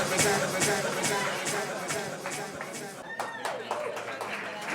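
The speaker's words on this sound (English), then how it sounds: "Yeah, clap it up for him." A studio crowd claps and cheers for a comedian from Atlanta at a comedy search show, close and busy at first with voices mixed in, thinning into scattered claps and talk.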